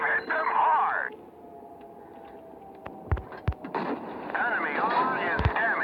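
Sharp metallic impacts of a tank shell ricocheting off armor in a Tetarch tank battle game, several quick cracks in succession amid muffled radio-like chatter and low rumbling ambience.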